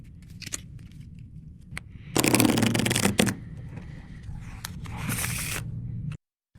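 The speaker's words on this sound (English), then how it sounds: "Now, what happens when I shuffle the cards?" Cards being shuffled close by: soft riffling bursts, one longer loud flutter in the middle, and a final riffle before silence.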